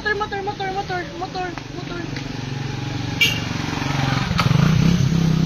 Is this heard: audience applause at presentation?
no